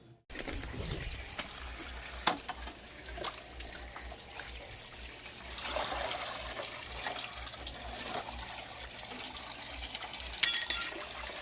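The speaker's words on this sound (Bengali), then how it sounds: "এখনো বাসন মাজছে" Running water and dishes being scrubbed and rinsed outdoors, a steady trickle with occasional faint clinks of utensils and glass, continuous at moderate distance with no talking.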